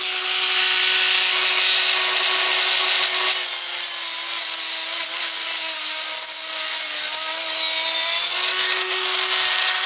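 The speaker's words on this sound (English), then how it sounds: "it doesn't take too much to cut through that, so I'll cut that all the way around" A cutting tool grinds continuously through metal tubing held in a vise during a Stirling engine build, a loud, steady, close rasp without pause and with a faint high squeal partway through.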